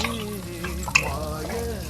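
Small shallots fry in oil in a pan, giving a continuous close sizzle with a single sharp clink of a spoon partway through.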